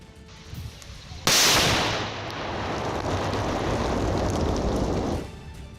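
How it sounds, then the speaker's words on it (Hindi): A powerful bomb found in a plastic container in Pulwama is destroyed by a bomb disposal squad at a deserted spot: a sudden loud blast followed by several seconds of broad rumbling roar that fades out, with no talk. "पुलवामा से मिला एक ताकतवर बम भी शामिल है, जिसे बम निरोधक दस्ते ने सुनसान जगह पर ले जाकर नष्ट कर दिया।"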